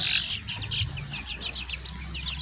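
Hens cluck softly and repeatedly behind a house, several birds chattering in short bursts nearby, with a low background rumble.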